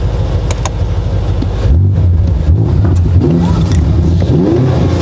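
BMW M5 Competition in Sport Plus mode pulling along a slow country road, its exhaust droning steadily then rising in loud, close revs as it accelerates and shifts, with some wind rush.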